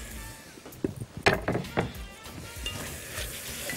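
Minced garlic and bell pepper sizzle in a hot pan, with a steady close fry broken by a few sharp stirring knocks and utensil clunks near the middle.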